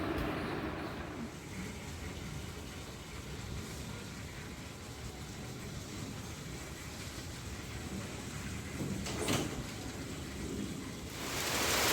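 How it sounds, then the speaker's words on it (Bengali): Rain falls in a storm at a home, a steady faint hiss with a brief burst of wind or distant rumble partway through and swelling again at the end. "এই দেখো বন্ধুরা, ঝড় বৃষ্টি আরম্ভ হয়ে গেছে"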